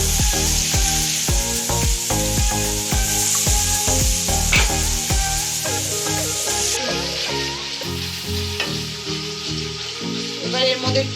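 Onions frying in a pan for a sweet, sour and spicy prawn curry, a steady close sizzle with music playing loudly over it throughout.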